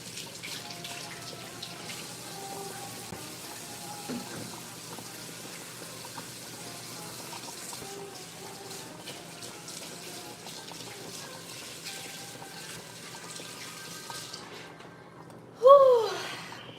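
Kitchen tap running steadily for washing, a soft continuous water hiss with faint clinks, ending in a brief louder burst near the end.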